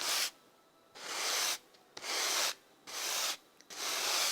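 A sponge is rubbed back and forth over the frets of a Monoprice Classic 66 V2 guitar during fret repair, giving four rasping, sanding-like strokes with short pauses between them, close up and alone.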